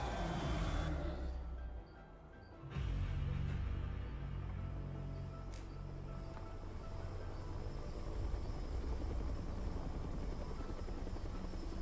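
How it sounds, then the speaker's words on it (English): A helicopter in the video game Resident Evil 3 drones steadily and loudly with a deep rotor rumble, dipping briefly near the start before resuming its constant roar. "We're loading up Nemesis into a chopper."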